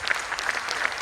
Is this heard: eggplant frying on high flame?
no